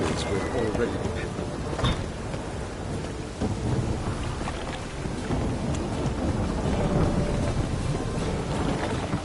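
Steady rain pours with low rolling thunder rumbling underneath in the video game The Witcher, a dense and continuous storm soundscape.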